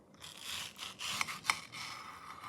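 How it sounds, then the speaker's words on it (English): Knife slicing through a fibrous Haden mango, a soft scraping, rasping cut heard in two or three short strokes, quiet and close with no talking. "Hear the fiber even going through the piece here?"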